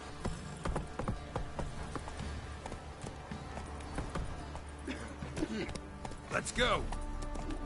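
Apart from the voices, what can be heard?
horse Roach galloping in The Witcher 3 video game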